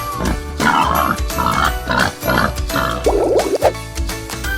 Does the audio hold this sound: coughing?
no